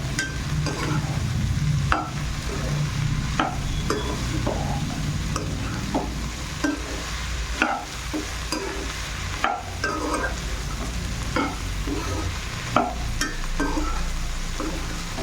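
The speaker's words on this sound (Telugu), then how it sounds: "ఇప్పుడు బెండకాయని వేసేస్తున్నాం. బెండకాయని అన్నిటిని ఇలా కలపాలి." Okra being stirred into a tomato curry in a pan, with steady sizzling and frying and repeated scraping strokes of a spoon against the pan at an even rhythm, close and moderately loud.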